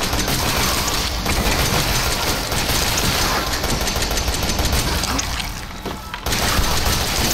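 Rapid gunfire in the survival horror video game Resident Evil 7 Biohazard, a dense, loud stream of shots that continues almost without a break, briefly dropping away before resuming near the end.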